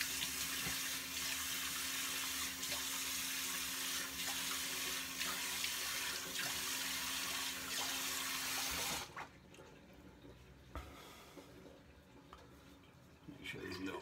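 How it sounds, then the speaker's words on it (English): Water runs steadily from a bathroom tap as a shaver rinses after a shave, a close constant hiss with splashing that cuts off about two-thirds through, leaving quieter handling noises. "So I'm gonna have a quick rinse down."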